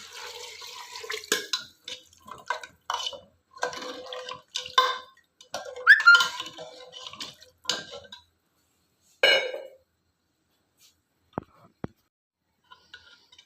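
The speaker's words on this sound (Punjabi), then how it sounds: "ਥੋੜਾ ਪਾਣੀ ਐਡ ਕਰ ਦਾਂਗੇ" Water is poured into a pan of aloo matar curry, making a run of splashy sizzling bursts and clinks that fade into near silence with a few scattered ticks.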